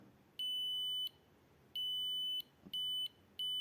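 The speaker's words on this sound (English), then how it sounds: "I'm reading the LDR light level and transforming it into a frequency for the buzzer" Four steady, piercing electronic buzzer tones from a hobby circuit driven by an LDR light sensor, each lasting under a second with short gaps between, clear and alone over faint background hiss.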